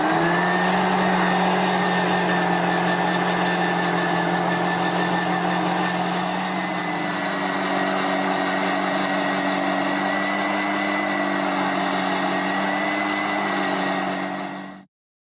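A power blower roars steadily up close as it pushes loose infield material off the grass edge of a baseball field, a constant loud whooshing drone that cuts off abruptly at the end.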